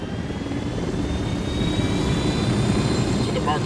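Helicopter in the video game Ghost Recon Wildlands, a steady rotor and engine drone holding at even loudness throughout, with faint high turbine whine above it.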